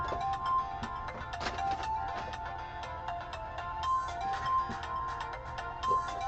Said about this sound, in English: look down there, one of the phones ring